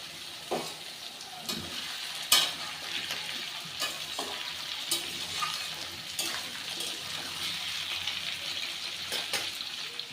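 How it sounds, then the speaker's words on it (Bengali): Malabar spinach stalks frying in a pan for a fish-head pui shak chhyachra make a soft, continuous sizzle, with scattered clinks and stirring scrapes near the middle and a slight watery hiss. "ডাটাগুলো দিয়ে একটু ভেজে নিয়েছি"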